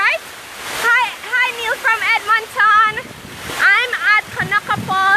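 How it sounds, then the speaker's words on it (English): Kanaka Falls in St. Anne's pours with a steady, broad rush of water that stays close and constant beneath someone talking almost throughout. "So behind me is a beautiful waterfall"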